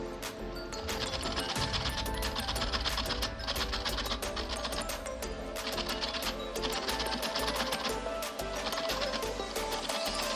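A capsicum is grated by hand, giving a steady, rapid rasping scrape that repeats in quick strokes at close range for several seconds without any talking.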